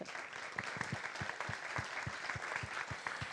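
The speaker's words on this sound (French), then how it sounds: "sous vos applaudissements" Soft, distant applause from the audience at a French student awards ceremony, an even patter of many hands clapping heard quietly from afar.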